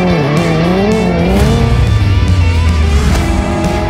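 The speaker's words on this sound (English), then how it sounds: "the new N Drift Optimizer makes drifting easier" A Hyundai N car drifting, its engine note climbing and falling beneath a loud, sustained tire squeal that slides in pitch as the car holds its slide, close and intense throughout.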